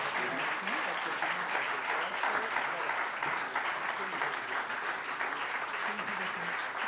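Applause from an audience for award winners receiving prizes and diplomas, a continuous broad clapping sound filling the clip with faint voices murmuring underneath.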